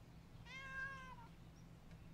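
A cat gives a single clear meow, moderately close, over a steady low hum in an otherwise quiet room.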